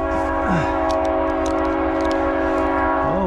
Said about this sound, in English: Oh, we got a train.